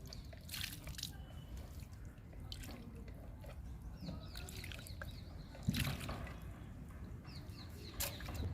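Water trickles and drips steadily into the soil of a potted syngonium plant, quiet and close, with a few soft splashes and faint birds in the background.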